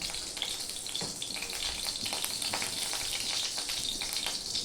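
Oil sizzles and spatters steadily in a hot pan as a little oil hits a wet surface before pumpkin vine stems and leaves are added, a close, continuous crackling hiss with no talking.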